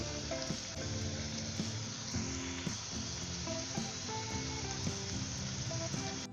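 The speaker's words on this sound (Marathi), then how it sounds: "आता हे फापडे ह्याच्यामध्ये तळून घेऊ" Fafda strips deep-frying in hot oil, a dense, steady bubbling sizzle heard up close and evenly throughout, with faint tonal background sounds and no talking.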